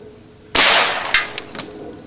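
A single sharp rifle shot cracks loudly up close and leaves a short decaying tail, with a few fainter echoes after it.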